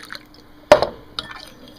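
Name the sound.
cold water stirred into beaten egg yolk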